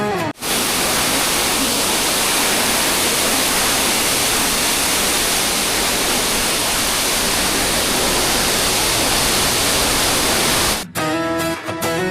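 A hidden waterfall near Khopiwali in Murbad pours in a loud, unbroken broadband roar that holds steady throughout, with no speech and only a brief faint tonal bit near the end.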